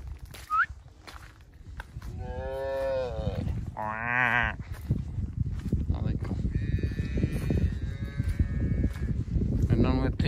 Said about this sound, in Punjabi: ਆਹ ਦੇਖੋ ਰੰਭਦੀਆਂ ਨੇ